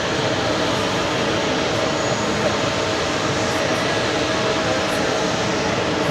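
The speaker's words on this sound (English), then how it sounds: "Next takeoff happening in just a few seconds." A Swiss Airbus A330-300 airliner takes off at JFK airport, heard as a steady, broad engine roar at constant loudness throughout, without distinct speech.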